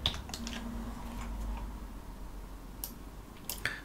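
Keys tap on a computer keyboard while a terminal command is typed on a Linux desktop. A few quiet, sparse clicks stand out over a low background hum.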